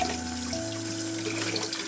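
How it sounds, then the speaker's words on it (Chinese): Running tap water splashes over bamboo leaves being rinsed for red bean alkaline rice dumplings, a steady close gush with a faint tonal hum underneath and no talking. "粽叶我们把它放在水龙头底下清洗，以免上面有一些蜘蛛网或者是灰尘"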